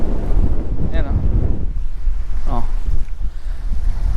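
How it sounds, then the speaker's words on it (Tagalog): Waves and wind at a remote white-sand sandbar beach in the Philippines: a steady low roar of surf with gusty wind buffeting the microphone, and brief faint voices in the background. "lalaki ng alon sa parte doon"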